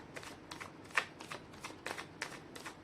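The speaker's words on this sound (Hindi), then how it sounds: "मैं कर लेती हूँ कार्ड की शफलिंग।" Tarot cards being shuffled by hand, a steady series of about seven soft riffling bursts at a regular pace, close and fairly quiet, with no talking.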